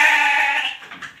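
A sheep at a stock farm gives one loud, drawn-out bleat close by, fading into a few softer, broken trailing sounds.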